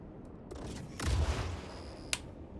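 Size 4 missiles fired from an RSI Meteor fighter in Star Citizen: a burst of muffled launch whooshes swells and fades, then a sharp click follows.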